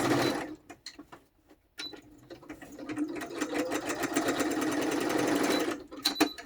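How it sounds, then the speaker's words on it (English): A sewing machine runs a straight stitch around collaged book-page pockets, a close, rapid mechanical whir with start-and-stop bursts and a longer steady run, separated by brief pauses. "here, I have my sewing machine. I don't think you can see it. Hopefully you can hear it."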